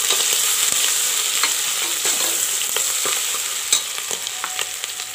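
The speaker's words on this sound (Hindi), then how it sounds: "इसे भी हम अच्छी तरह से रोस्ट कर लेंगे" Slit green chilies and crushed ginger roast in spiced oil for masala khichdi, a dense close sizzle broken by frequent sharp scrapes and clicks of a spoon stirring the pan.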